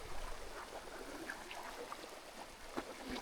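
A fair-sized flowing stream gives a faint, steady wash of trickling water outdoors, with no voices over it.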